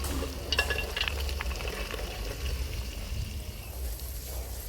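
Cut vegetables (potato, brinjal, cauliflower, cluster beans, green pigeon peas, green peas and carrot) sizzle and are stirred in ghee in a pot for Girnari khichdi, a steady close frying hiss with a few scraping clicks.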